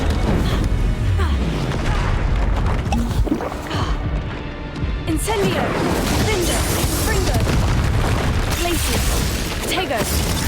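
The Incendio fire spell is cast in Hogwarts Legacy, giving dense roaring, crashing combat effects with heavy booms and impacts that continue throughout, over sounds of battle and a brief quieter dip midway.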